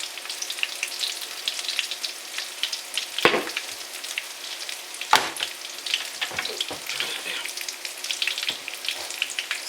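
Burger buns fry in olive oil in a pan, a steady bright crackling sizzle with a few louder spattering pops along the way.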